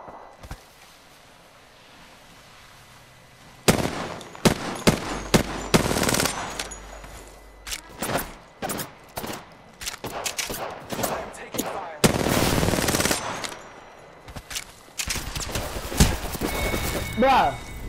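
Video game gunfire, rapid bursts and single shots in irregular clusters, loud and close, with players talking over the action at times.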